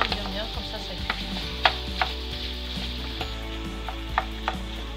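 Lasagne sauce simmers in a pan under a low hum while a utensil crushes and stirs it, giving repeated soft scrapes and taps over a gentle bubbling sizzle.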